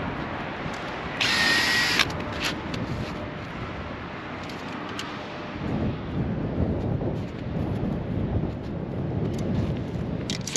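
A power drill whirs steadily at a distance amid rumbling outdoor noise, with a brief higher-pitched burst early on.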